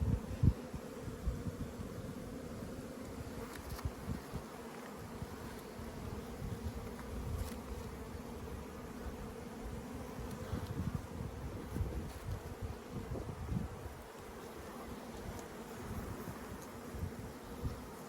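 Honeybees buzz around an opened working beehive with freshly drawn comb, a dense, steady, close drone that continues unbroken with no voices.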